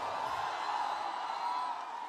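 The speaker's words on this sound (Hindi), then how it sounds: "जोरदार तालियां पटना वालों, स्वागत कर लो" A packed crowd at a Pushpa 2 trailer launch event in Patna cheers and roars steadily as Rashmika Mandanna is welcomed, a dense, continuous wall of noise with no break.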